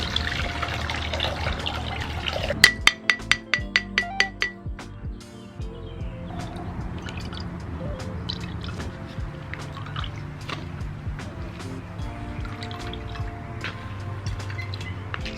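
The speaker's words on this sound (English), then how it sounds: "So after 3 weeks, you're going to just strain it off." Steeped herbal vinegar strained off spent herbs, with a quick run of bright drips and trickles early on followed by a quieter, steady wet dribbling close by.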